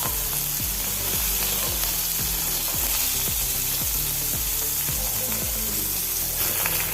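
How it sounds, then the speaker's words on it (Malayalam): Dried fish fries in hot oil with a loud, continuous sizzle, while a regular ticking clatter repeats underneath throughout and no one speaks. "മീനെല്ലാം എണ്ണയിലിട്ട് കൊടുക്കാം"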